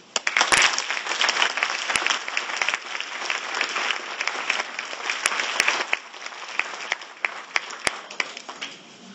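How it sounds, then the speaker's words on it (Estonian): Sustained applause from a large audience fills a school assembly hall at a ninth-grade graduation ceremony, dense and steady throughout with a few sharper claps standing out near the start and end. "aplausi."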